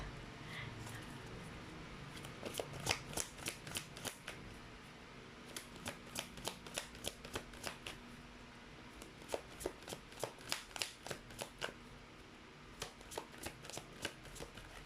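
Tarot cards being shuffled and flipped by hand, a run of crisp riffling snaps and slaps in quick irregular bursts, close and fairly quiet, with no talking.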